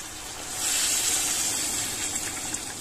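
Water pours into a cooking pot of chicken with peas and dill in tomato juice, making a steady, close, hissing gush that swells and continues for about two seconds, with no talking.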